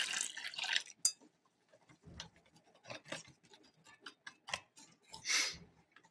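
Bacon curing solution with brown sugar is poured into a container, giving short splashing, gurgling bursts at the start and again near the end, with quieter scattered clinks and drips between them and no talking.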